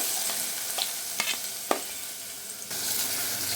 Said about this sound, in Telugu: ఉల్లిపాయలు మంచిగా ఇట్లా నూనెలో వేగాలి.